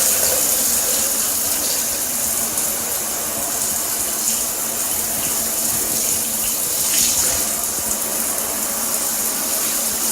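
Tap water runs steadily and loudly to rinse dirt off, a constant hissing splash that holds evenly throughout with slight swells.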